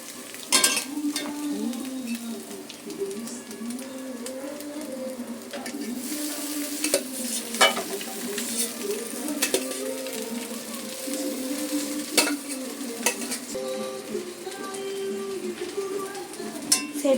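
Chicken noodles with egg and carrots are stirred in a pan, a spatula scraping and clinking in repeated strokes over a low sizzle, with some background tonal sound.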